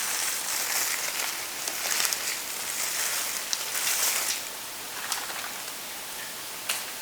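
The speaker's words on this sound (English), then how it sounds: "But we're just gonna pour this in here so you can see exactly" Red powder coating powder being poured, a continuous soft granular hiss and rustle like light rain with occasional faint ticks of clumps, steady and close throughout without speech.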